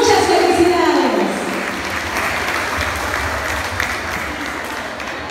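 Applause from an audience at an award ceremony for primary school students honored for academic excellence, a loud burst that settles into steady sustained clapping.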